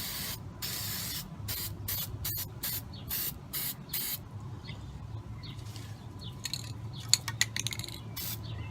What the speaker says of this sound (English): Just get what you can with the spray paint so you have less to do